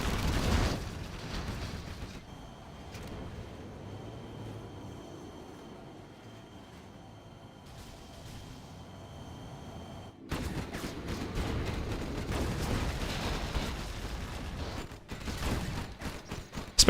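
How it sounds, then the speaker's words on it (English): Air strike explosions from MiG jets in the real-time strategy game Command & Conquer Generals, Scorched Earth match: a loud rumbling blast at the start, a quieter stretch of low rumble, then another heavy burst of explosive rumble that carries on to the end. "MiG's coming in for another strike"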